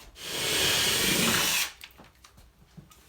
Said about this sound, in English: we're just going to drill these out to a 1/4 inch